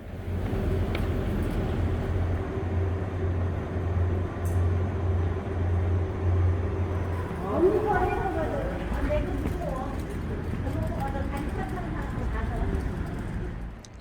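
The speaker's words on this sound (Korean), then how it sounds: "무궁화호는 진동각 소음이 꽤 있는 편이지만 어쩌면 그래서 더 기차답기도 합니다." Steady rumbling ride noise and vibration inside a Korean Mugunghwa passenger train, a continuous low drone with rattling, while talk and other voices come in partway through.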